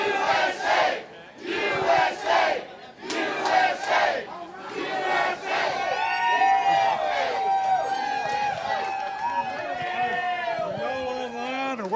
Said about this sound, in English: Leave you with the sounds of the crowd here in Asheville.